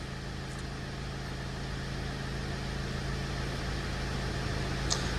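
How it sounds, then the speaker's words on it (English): A Mercedes with a power steering fault idles steadily, a low continuous engine hum with a constant tonal drone, close and even throughout with no talk. "Car's running now, so maybe it doesn't sometimes like it"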